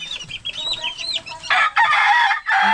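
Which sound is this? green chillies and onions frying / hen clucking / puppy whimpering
hen clucking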